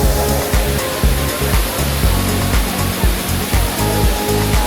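A waterfall at a Taiwan geopark area roars loud and continuous, a dense broadband rush of falling water with a low rumbling undertone throughout.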